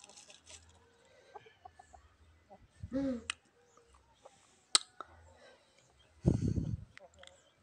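An ornamental slender-tailed chicken gives a few short clucks and a louder squawk near the microphone, in a quiet setting with faint background sounds.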